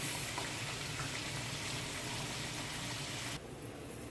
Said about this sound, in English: I'm going to add 1 cup of pineapple. And I'm just going to allow this to just boil